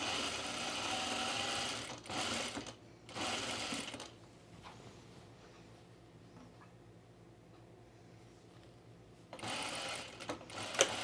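A domestic sewing machine stitches down the waistband seam of a dress in several bursts, a fast rattling hum that starts and stops, with quiet handling between the runs.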